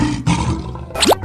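Game lion roar from a 3D animal slide game, a single loud sweeping growl near the end of a busy stretch of cartoonish game sound, with no talking.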